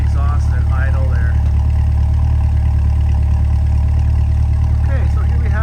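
A 2022 Corvette Convertible 3LT with an NPP exhaust sits idling, a steady deep burble with a strong low rumble holding evenly throughout, close by, while someone talks briefly over it near the start and end.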